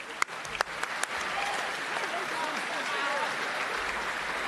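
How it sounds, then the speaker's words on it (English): A school graduation ceremony audience applauds: a few sharp claps build quickly into a full, steady wave of clapping that carries evenly to the end, with voices murmuring underneath. "Another round of applause for them."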